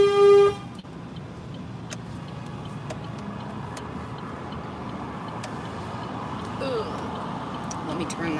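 A car horn sounds briefly at the start amid a protest convoy between Moose Jaw and Regina, then a continuous traffic and engine rumble follows with scattered faint toots.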